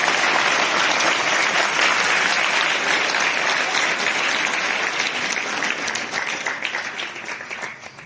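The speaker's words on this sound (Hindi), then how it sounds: "तो मैं चाहूंगी कि आप अपने लिए एक बार जोरदार तालियां।" Loud, sustained applause from a crowd gathered in a school courtyard for a motivational address, dense clapping holding steady before gradually thinning and fading toward the end.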